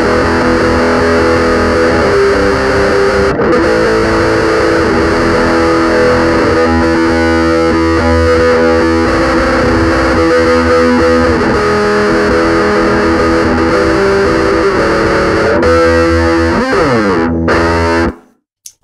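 Heavily distorted electric guitar runs through an Ampeg bass amp simulator in Logic, giving a loud, fuzzy, dense riff. It plays continuously for about eighteen seconds with no talking.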